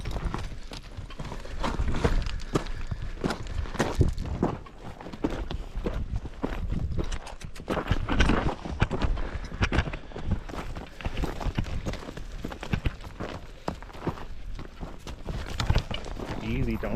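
Mule hooves clopping along a steep mountain trail in a steady, uneven walking rhythm, close and fairly loud, with people talking over the footfalls throughout.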